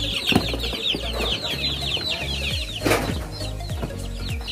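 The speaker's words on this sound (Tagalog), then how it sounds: "Yung ating mga sisiw." Chicks in a brooder chirp in a dense, continuous chorus of high peeps, with a brief flurry of wing flapping partway through and a low rumble underneath.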